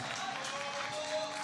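A crowd cheers and applauds at the UIPM Pentathlon Junior World Championships, a women's semi-final, after an athlete clears the swinging-globes obstacle. It is a steady, dense roar of clapping and cheering that holds for the whole short moment.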